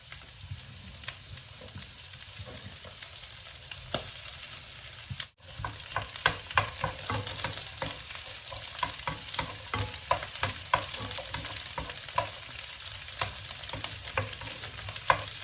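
Two medium onions fry in oil for Sylheti-style kachki shutki vorta. A loud, close, continuous sizzle is broken by frequent crackles, pops and stirring scrapes, with one brief dip partway through.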